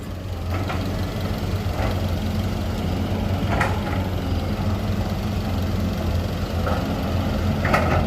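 Excavator engine running steadily at a rural earth-digging site, a loud continuous low rumble and idle with a few faint clanks over it, no speech.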